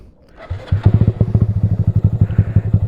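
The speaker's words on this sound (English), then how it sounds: "So right now if I try to start my bike" A motorcycle in neutral is started and quickly catches, settling into a loud, close, rhythmic thumping idle of rapid, even pulses after a brief cranking clatter.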